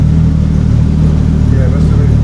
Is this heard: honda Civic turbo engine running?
yes